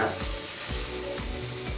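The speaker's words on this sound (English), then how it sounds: "that's a loud sizzle." Food fries in a hot pan with a loud, dense sizzle, broken by rhythmic scraping stirs that pulse roughly every half second, close and continuous with no voices.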